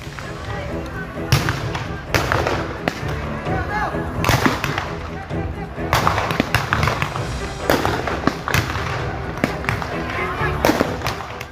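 Firecrackers burst repeatedly during a nighttime street brawl between two youth groups at a public cemetery in Jatinegara, East Jakarta, with loud irregular cracks and booms over constant crowd noise and shouting.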